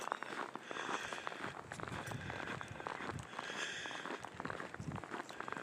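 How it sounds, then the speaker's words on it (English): Footsteps crunch on snow outdoors on a cold, snowy morning, keeping a steady walking rhythm close by with continuous gritty crunching and no talk. "You can tell how cold it is because of the crunching sounds of my footsteps on the snow."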